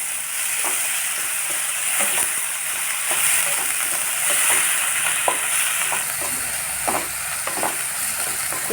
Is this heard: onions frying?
yes